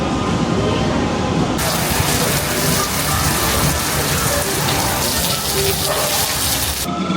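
Steady, heavy rain pours down without a break, a dense, loud hiss close by as it falls around a sheltered spot at a Blackpool seaside amusement park.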